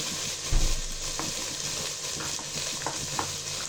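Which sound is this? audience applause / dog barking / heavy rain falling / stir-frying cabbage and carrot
stir-frying cabbage and carrot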